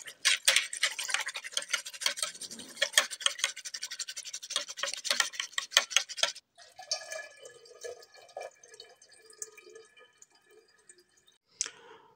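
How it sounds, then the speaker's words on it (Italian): Pollen is stirred into a mead mixture, producing a rapid run of close clicking and scraping strokes against the container for several seconds, then quieter trickling and clinking. "E adesso andiamo a mescolare"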